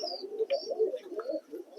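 Several racing pigeons coo softly and continuously in their loft, their low burbling calls overlapping in a close, enclosed space with faint chirps mixed in.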